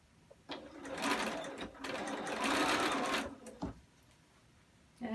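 A sewing machine stitches along the bottom edge of an N95 mask, loud and close, running in a few sustained bursts with brief pauses between them.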